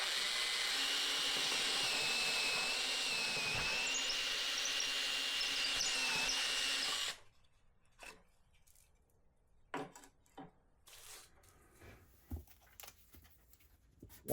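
A power drill bores peg holes in timber with a jig, whirring loudly and steadily at close range for about seven seconds, then stops, leaving faint scattered knocks and handling sounds.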